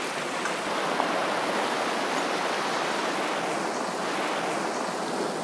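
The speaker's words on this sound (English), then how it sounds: "it's a little set of rapids up here" Small rapids pour over rocks in a stream in a forest reserve, a steady, dense rush of white water close by that holds even across the whole stretch with no voices.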